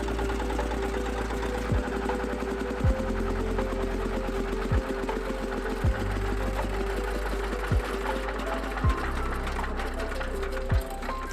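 A Soviet DT-14 diesel tractor, revived after twenty years standing, runs steadily at idle with an even, rapid chugging and a periodic low knock roughly every second, with no voices.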